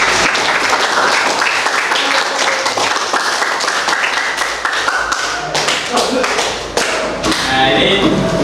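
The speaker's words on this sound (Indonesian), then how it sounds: "tepuk tangan untuk kita semua" A group of participants in an online training session claps together, a busy, uneven patter of taps and thumps over a voice talking throughout.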